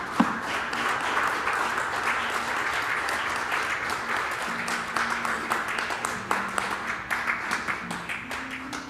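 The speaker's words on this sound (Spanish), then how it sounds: "Démosle un fuerte aplauso al Señor" Church congregation applauding, sustained dense clapping that thins into scattered claps near the end, with some voices underneath.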